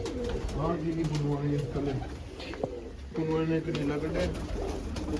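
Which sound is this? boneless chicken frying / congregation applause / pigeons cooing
pigeons cooing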